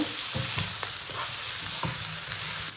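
Mutton sautés in a hot pan with a constant loud sizzle, while a spoon scrapes and stirs with soft rhythmic knocks, close up and with no talking.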